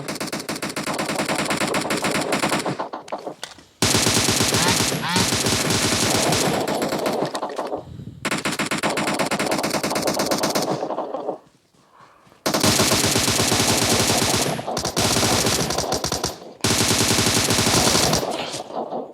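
Rapid automatic gunfire in the video game PUBG Mobile, loud sustained bursts of machine-gun fire broken by short pauses, with no talk audible.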